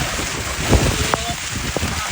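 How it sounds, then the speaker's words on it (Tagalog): Steady broadband hiss of heavy rain pouring down during strong wind while cooking outdoors, with a few thuds and knocks and faint voices underneath. "Grabe ulan."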